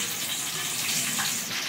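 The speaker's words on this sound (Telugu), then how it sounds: "కలమాకు కూడా డీప్ ఫ్రై చేసుకోవాలి ఫ్రెండ్స్" Pieces of chicken pakodi deep frying in hot oil give a dense, steady sizzle and crackle, close and loud, ending in a short sharp pop.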